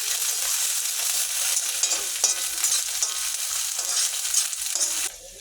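Ginger, garlic and onion paste frying in hot oil for a pork and tomato curry, a steady close sizzle with scattered pops and crackles that drops away sharply near the end.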